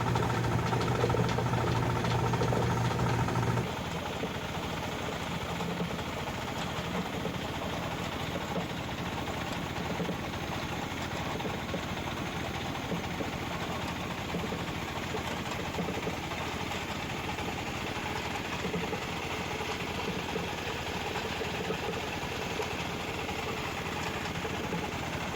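A 2-horsepower engine driving an upland irrigation water pump runs steadily and close by, with a louder stretch at the start before it settles into an even, droning hum with no talking.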